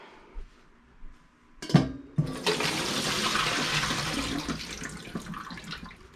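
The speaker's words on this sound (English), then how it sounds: "After our soak, we're ready to drain." Soaked Brussels sprouts are drained, with a steady rush of water pouring out for several seconds after a couple of clunks from the bowl.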